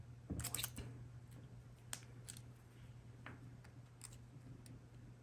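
Scissors snip through VHS repair tape in a few quick, close, crisp cuts, sharp clicks spaced over a quiet room with a steady low electrical hum underneath.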